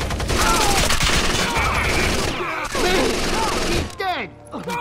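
Gunfire in Rainbow Six: Vegas 2 on an Xbox 360 emulator, dense automatic bursts crackling loudly over game chatter and voices, then tapering into scattered shots and ricochet-like tails near the end.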